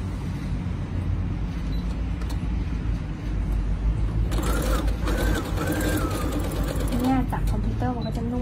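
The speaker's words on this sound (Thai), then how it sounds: "เย็บ แล้วก็แบตะเข็บออกนะคะแล้วก็เย็บ" A Brother sewing machine runs steadily while stitching a seam on a child's bucket hat, a continuous close mechanical whir with someone talking over it in the second half.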